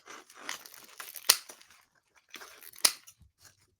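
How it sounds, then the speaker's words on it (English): Scissors snip off the tips of pipe cleaners during a Thanksgiving craft project, giving two sharp, close cuts about a second and a half apart, each with a faint rustle of handling before it. "I'm going to go in and I'm going to cut off the tips of my pipe cleaners"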